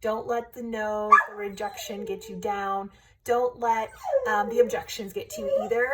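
A dog whines and yips in a series of high, pitched whimpers and short barks nearby, running alongside a person talking steadily over it.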